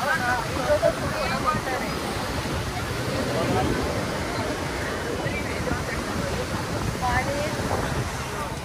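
Rushing water roars continuously as it pours through Khadakwasla Dam in Pune during heavy rain, a broad, steady torrent released from the dam, with faint wind buffeting the microphone.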